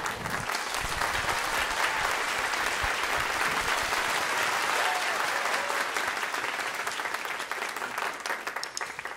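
An audience applauds a male singer after a ballad performance on a Vietnamese music program: steady, dense clapping that stays loud and even throughout, with no voices over it.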